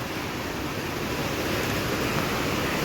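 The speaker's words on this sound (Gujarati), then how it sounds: "રાતનો 3 વાગ્યાનો વરસાદ ધબધબાટી બોલાવે છે ભાઈ" Heavy rain pours at night in a Gujarat village, a dense, unbroken roar of water that holds at an even loudness throughout.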